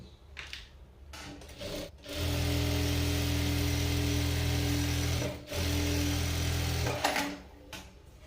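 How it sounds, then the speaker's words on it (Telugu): A sewing machine stitches the lining while attaching invisible piping to sleeves, running as a loud, close, steady mechanical whir in two long bursts separated by a brief pause, with softer handling noises before and after. "లైనింగ్కి వేసాను పై కుట్టు"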